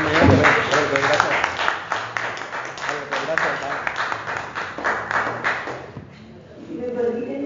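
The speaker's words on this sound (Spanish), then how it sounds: "aplauso para ella" An audience at a municipal gathering applauds in a dense, steady patter of many hands that holds for several seconds and then thins out, with voices mixed in near the end.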